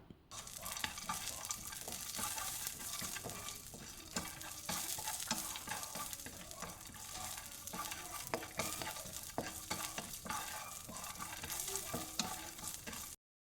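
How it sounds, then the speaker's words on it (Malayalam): Chopped almonds and cashews sautéing in ghee while being stirred, a soft steady sizzle broken by frequent scraping and clicking of a spoon in the pan, with no voices. "ഇനി ഇതിലേക്ക് കട്ട് ചെയ്ത് വെച്ചിരിക്കുന്ന ബദാമും കാഷ്യൂനട്ടും ചേർത്ത് കൊടുക്കാം. എന്നിട്ട് നന്നായിട്ടൊന്ന് ഇളക്കി ഇതൊന്ന് സോട്ട് ചെയ്തെടുക്കാം."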